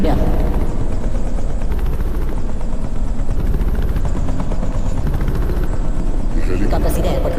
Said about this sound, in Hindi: हेलीकॉप्टर सीधे एयरपोर्ट के टारगेट पे लैंड हुआ।